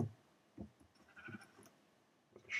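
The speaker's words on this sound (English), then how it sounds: "Sheep." Sheep in the Minecraft video game bleat three times in short, separate calls, clear and close against a quiet background.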